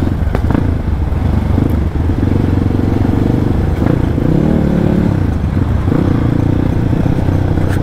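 A local Indonesian supermoto motorcycle engine roars loud and close at speed, with small rising and falling revs and some mechanical clatter throughout. No speech is heard.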